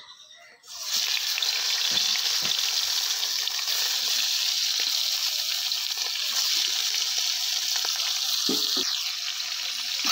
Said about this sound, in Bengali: তো এবার আমি মাছগুলো দিয়ে দিচ্ছি।